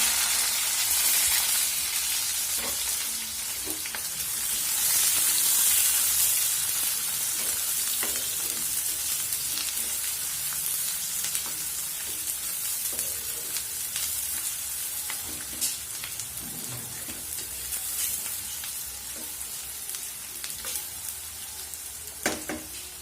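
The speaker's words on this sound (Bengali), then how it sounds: "আমি 4-5টা পেঁয়াজ নিয়েছি, এগুলো তেলে দিয়ে দিব" Four or five onions frying in oil in a pan, a steady bright sizzle that runs continuously with occasional pops and spatters, close and moderately quiet, no talk.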